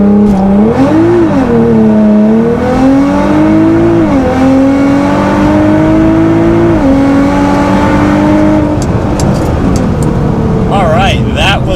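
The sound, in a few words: Nissan GT-R launch control 0-60 acceleration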